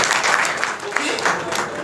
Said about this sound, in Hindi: ताली बजा लें इनके लिए प्लीज।